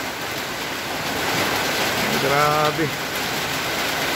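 Heavy typhoon rain and wind roaring steadily as a dense, close wash of noise, with a man briefly exclaiming partway through.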